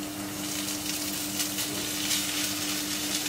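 Crushed beef meets hot masala in a pan for meat-stuffed pathiri, giving a steady, close sizzle of frying with a faint constant hum underneath.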